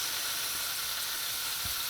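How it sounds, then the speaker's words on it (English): Steady crackling sizzle of rabbit meat browning in hot oil, a continuous bright hiss with faint pops, close by and fairly quiet. "We're going to add our rabbit to it. We want that to start sizzling."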